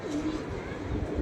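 Pigeons cooing in a loft, soft low repeated coos at moderate distance over a faint background murmur.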